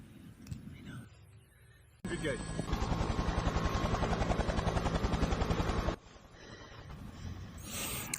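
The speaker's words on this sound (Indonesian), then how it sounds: "Jessica yang mendengar suara helikopter yang hendak berputar arah" A loud helicopter roars with rapid chopping rotor beats for several seconds, then fades back into quieter ambient noise.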